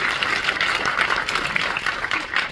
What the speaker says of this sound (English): Round of applause for Ted, everyone.